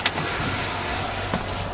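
A car engine idles steadily with its alternator disconnected, a continuous broadband hum with a faint click near the start and a brief swell later on, no talking.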